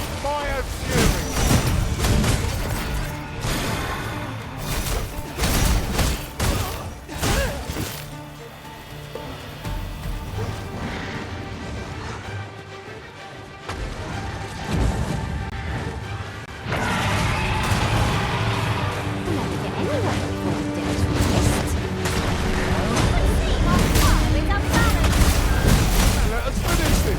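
Fiery attacks and battle explosions crash repeatedly through a Dragon's Dogma II fight, dense and loud throughout, with music and shouted battle cries layered over the continuous din.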